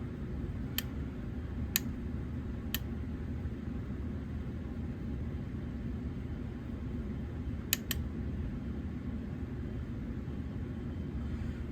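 Coils of a Williams Pinbot pinball machine fire one by one in solenoid test mode: five sharp, separate clacks, three evenly spaced and then a quick pair, over a constant low fan-like hum.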